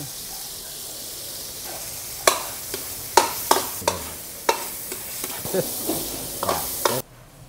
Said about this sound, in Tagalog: Lagyan natin yan ng mantika. At bawang. At ito na, gigisa na natin.